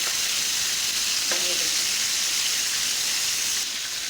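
Chapli kabab frying in a pan, a constant close, dense sizzle with a faint brief clink partway through and a slight drop near the end, without talk.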